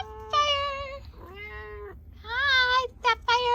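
A pet cat named Sapphire meows several times, close and clear, with drawn-out rising and falling calls followed by a quick pair of shorter meows.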